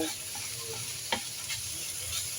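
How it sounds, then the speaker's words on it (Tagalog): Onion and tomato sauté in a pan for a squash and string bean dish, a steady close sizzle with a few soft stirring knocks, one louder clack near the middle; no one speaks. "Nagigisa po ako ng sibuyas kamatis."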